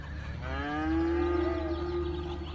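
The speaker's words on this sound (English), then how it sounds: "I just heard cows echoing in my ears then." Cows in the Cities: Skylines video game give one long, drawn-out moo that rises and holds steady, clear and fairly close, over a quiet ambient game background with no talking.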